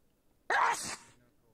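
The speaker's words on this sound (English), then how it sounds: "I feel like I'm gonna sneeze." A single sneeze bursts out at close range, loud and sharp, then tails off into quiet within about half a second, with no talk around it.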